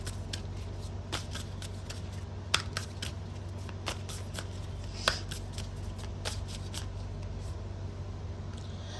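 Tarot cards riffle and snap in repeated quick shuffles, crisp and close over a steady low hum, with no one talking.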